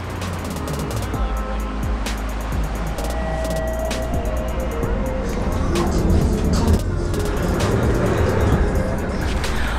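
A funicular in Baku climbs up the mountain with continuous rumbling and mechanical clatter, rhythmic clicking and ticking from the track, plus a steady low hum close by.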